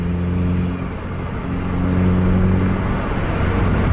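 A vehicle engine idles on a roadside and then slowly builds revs, a steady mid-pitched drone that holds fairly close and even with no voices over it.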